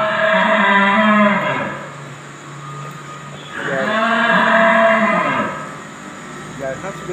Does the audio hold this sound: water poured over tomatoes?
no